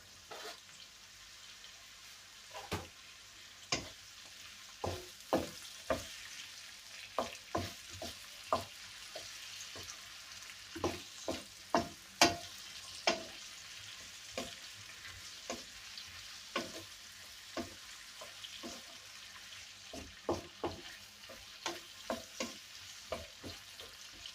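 Tomato and pepper frying in a pan on a gas stove give a steady sizzle, broken by frequent sharp stirring scrapes and taps of the utensil, close and fairly quiet, with no talk.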